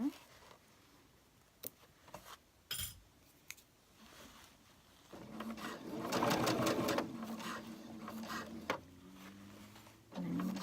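A sewing machine stitching pants to lock in stitches runs in a quiet stop-start way: a few isolated clicks and taps, then a longer rattling run of stitching near the end, with faint voices and handling noise.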